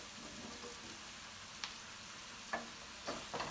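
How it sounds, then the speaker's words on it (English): Zucchini sautéing in a pan for a vegetable garam masala, a soft steady sizzle throughout with a few sharp clicks and stirring knocks near the end, no talk. "Now we're going to put the zucchini."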